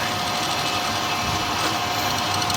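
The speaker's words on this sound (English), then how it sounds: "so we can come in with the pilot drill" Steady high-pitched whine of a pilot drill cutting into metal on a custom chopper motorcycle build, continuous and fairly close, with no voices.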